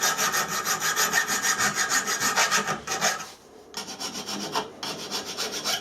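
A hand file rasps across a hardened steel drill spindle in quick, even back-and-forth strokes, loud and close, with a short pause before the filing resumes.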